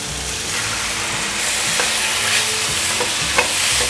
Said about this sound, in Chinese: 快速的拌炒均匀